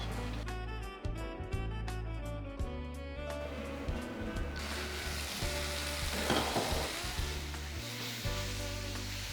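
Bottle gourd, tomato and green chillies sizzle steadily in hot oil for a coriander chutney, a continuous close frying hiss with background music playing over it.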